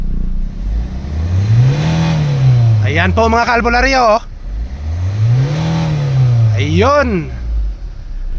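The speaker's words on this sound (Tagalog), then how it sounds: "Alright, engine rev." A 2012 Hyundai Santa Fe automatic engine revved twice in a row, each rev climbing smoothly in pitch then falling back to idle. Someone talks over the close, steady engine drone.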